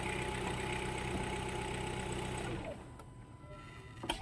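A Hyundai Tucson engine idles with a steady hum after being restarted, then the running note drops away about two-thirds through, leaving quieter background with a couple of faint clicks.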